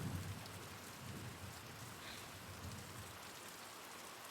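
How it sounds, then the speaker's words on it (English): Soft, steady rain falls in the video game Pentiment, a constant gentle hiss with low patter underneath, fairly faint and even throughout with no speech. "The sound of rain in this game is really soothing."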